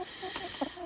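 Chickens cluck softly in short bursts, close by, with a faint steady background hum.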